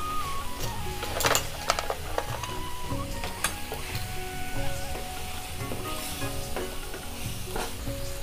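Ground spices, including Kashmiri red chilli, coriander and cumin powders, sauté in oil for a cabbage kofta curry, with a loud nearby sizzle and frequent rhythmic scraping and clinking of a spoon against the pan, no one talking.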